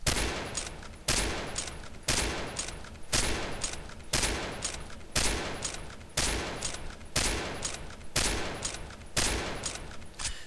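Rifle shots from an M24A3 Woodland sniper rifle in the Combat Arms video game, fired in a slow, steady series of about ten loud, sharp cracks. Each shot is spaced roughly a second apart and has a short decaying tail, with no talking.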